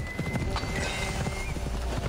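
Horse hooves clip-clop on the ground in Assassin's Creed Odyssey, a steady, fairly close trotting rhythm that runs throughout over faint game ambience.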